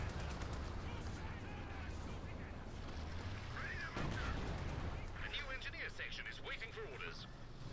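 Crocodile flamethrower tank from the Company of Heroes 2 battle game, a dense roaring whoosh of flame amid crackling gunfire and explosions, all beneath continuous excited commentary.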